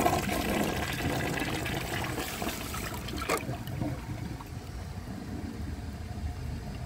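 A 1995 Mansfield Alto ADA toilet flushes with loud rushing, swirling water that gives way to a quieter gurgle and trickle as the bowl drains and refills.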